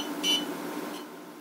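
A motherboard BIOS beeper gives one short, thin electronic beep at PC startup, faint against a quiet background hiss.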